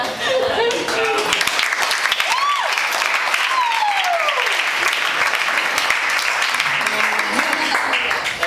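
Live-show audience applauding steadily and loudly throughout, a dense wash of clapping with a few whistles and shouts rising above it.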